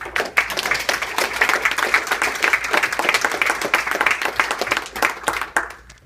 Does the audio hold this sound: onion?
no